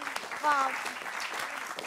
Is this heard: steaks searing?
no